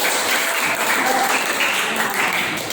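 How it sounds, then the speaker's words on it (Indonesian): Classroom applause for a group of students who have just presented, a dense, steady wash of clapping from many hands, fairly close and continuous. "Tepuk tangan buat kelompok 4."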